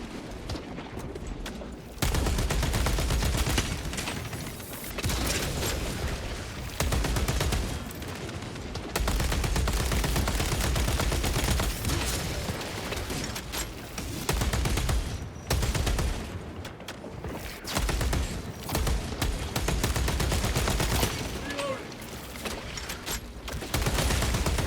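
Rapid gunfire and bursts of automatic fire in the video game Space Marine 2, dense and continuous with brief dips, loud throughout.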